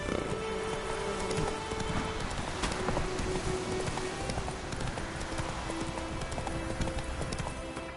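A horse gallops steadily in The Witcher 3 video game, hooves pounding in a continuous fast rhythm over a dense, loud backdrop with no speech.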